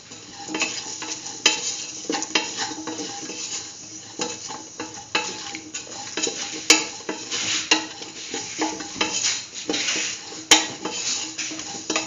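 A spoon scrapes and clinks in a pot as a spice mixture is stirred into a kidney bean and chayote stew, with steady sizzling underneath and occasional sharp utensil taps against the pot.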